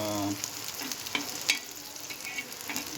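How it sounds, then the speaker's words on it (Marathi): Garlic fries in oil with a busy, crackling sizzle, close and fairly loud. Brief stirring clinks and scrapes punctuate it over three seconds. "लसूणचा फ्लेवर हवा असतो म्हणून जराशी अशी ऑइलमध्ये फ्राय करून घेतले"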